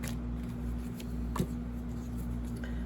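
Tarot cards shuffled by hand at close range, a soft papery riffle with a faint slap, sitting over a steady low background hum.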